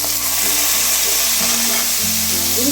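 Tomatoes going into a pan of frying onions bring a steady close sizzle and crackle with faint stirring, continuous throughout with no talking.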